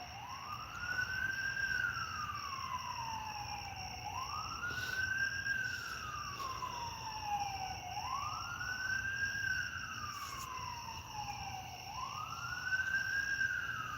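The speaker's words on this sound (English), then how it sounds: "Listen to the sirens." Emergency vehicle sirens on a nearby major road in the countryside rise and fall in slow, even sweeps, heard from a distance over a constant hum; no talking.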